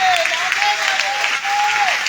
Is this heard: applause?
yes